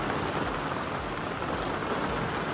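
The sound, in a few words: rain pouring down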